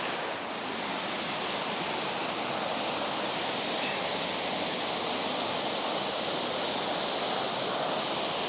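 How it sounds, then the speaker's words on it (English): A small mountain waterfall spilling off the slope over slick rocks, a dense, steady roar of rushing water, close and loud, with no voices. "I'm actually walking on Waterfall, just a very small one that's coming off the mountain"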